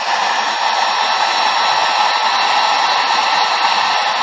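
A heat gun blows hot air in a loud, steady, broadband rush, close and unbroken with no variation in pitch, in a workshop setting near a MIG welder under repair, with no talking over it.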